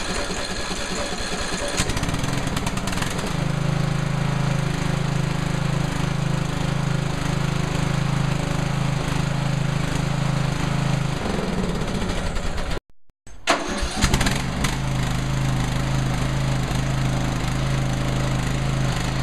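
A Craftsman LT1000 lawn tractor engine cranks, then catches and runs with a loud, steady mid-pitched drone close by, cuts out briefly near the end, then roars back up and keeps running.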